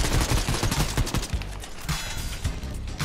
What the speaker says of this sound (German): Also überall Schüsse, ne?